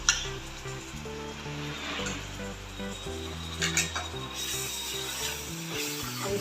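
Ginger garlic paste fries and gets stirred in a pan while cooking chicken tikka masala, a steady close sizzle with scraping stirs throughout, with background music playing underneath.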